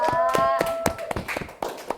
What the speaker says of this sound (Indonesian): boleh kelompok 2 tepuk tangan dulu ya untuk kelompok 2